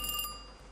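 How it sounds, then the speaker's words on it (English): A phone rings in the horror game Kiosk: a thin, high electronic trill pulsing a few times, fairly quiet and steady, with no talk over it. "Phone's ringing."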